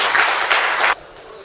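Audience at a mushaira applauding, a dense burst of many hands clapping in a hall that cuts off abruptly, leaving quiet room tone.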